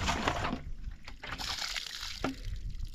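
Water flows and trickles from a pipe, a close, continuous liquid rush with some sloshing and a couple of brief splashes over a few seconds.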